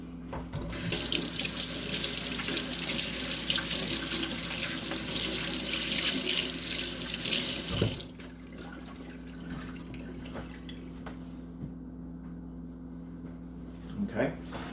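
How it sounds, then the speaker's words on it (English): Kitchen tap water runs steadily into a sink as hands are rinsed, a loud even rush for about eight seconds, then a quieter trickle and drips with light handling noise. "I'm going to rinse my hands"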